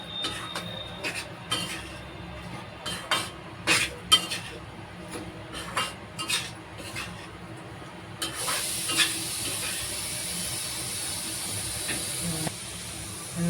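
Flour for methi laddu roasts in ghee in a pan, giving a soft hiss and sizzle broken by repeated scraping stirs of a spoon, close and moderately loud, with the hiss growing steadier and brighter toward the end.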